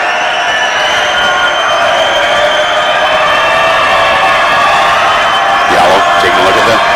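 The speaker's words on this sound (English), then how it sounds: "A lot of noise from the crowd." Loud college basketball crowd at a men's game, Providence versus Montana Tech, roaring steadily throughout a free throw with a dense, sustained wash of cheering and shouting and a brief swell near the end.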